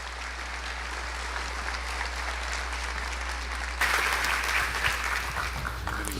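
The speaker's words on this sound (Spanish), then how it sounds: "Recibámosles con un fuerte aplauso." An audience applauds warmly to welcome a Spanish writer and lecturer onto a stage, steady clapping filling the room for about six seconds and swelling slightly near the end, over a low constant hum.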